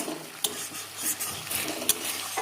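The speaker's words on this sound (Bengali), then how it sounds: "এবার মশলাটা ভালো করে কষবো" Spice paste with salt, turmeric and coriander leaves being fried and stirred in a pan for a fish dish, a steady sizzle broken by a few sharp spatula scrapes and knocks, close and alone.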